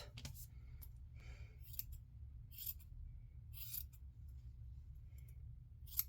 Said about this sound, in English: let's just trim this one up.